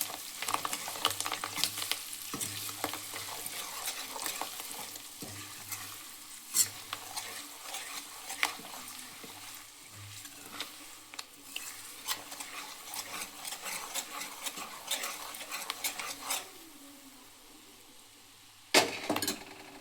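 A spoon stirs tomato rasam in a sizzling pan, with soft frying hiss under irregular scraping and clinking strokes against the metal, and one sharp clack near the end.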